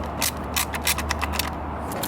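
A ratchet wrench clicks rapidly and steadily close up while loosening 11mm bolts on a Permobil C300 wheelchair battery, a continuous run of sharp pawl ticks over a low hum.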